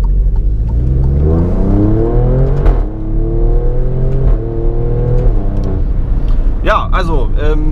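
Alfa Romeo Stelvio Quadrifoglio with a 510 hp engine pulling away, its engine note rising and falling steadily throughout, close and loud, with someone speaking over it.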